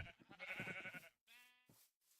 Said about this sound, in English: at all the cute sheep too.